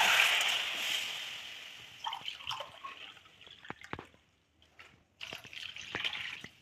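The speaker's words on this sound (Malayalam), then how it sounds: "ഇതിലേക്ക് 2 കപ്പ് വെള്ളം ഒഴിച്ച് തിളപ്പിക്കാനായി വെക്കുക." Two cups of water splash and trickle into a cooking pot, a steady pour at first, then scattered drips and clinks before a second burst of running water.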